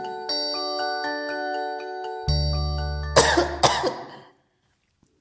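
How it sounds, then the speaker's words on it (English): A soft chiming melody plays, then a puppet character coughs twice, loud and close, before everything falls silent. "that cough doesn't sound good"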